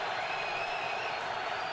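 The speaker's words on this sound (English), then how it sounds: "Crowd already in full throw." A football stadium crowd at an NFL game between the Buffalo Bills and Pittsburgh Steelers roars steadily, a dense, loud, unbroken wall of cheering with no pause.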